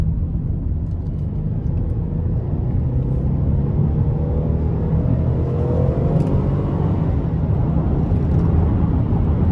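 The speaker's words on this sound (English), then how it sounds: "even when I put my foot down, it's a nice sound that comes from the engine bay" A 2016 Chevy Traverse LT with a 3.6 V6 and 92,000 miles accelerates and shifts, heard from inside the cabin as a steady, moderate engine drone blended with low road rumble.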